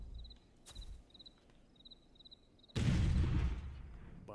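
A grenade explodes in the VR shooter Arizona Sunshine, a sudden loud blast that breaks a quiet stretch of faint insect-like chirps and rumbles on as it fades.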